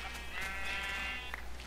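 Sheep in the video game Minecraft bleat in two or three short, wavering cries, close and clear over a low steady hum.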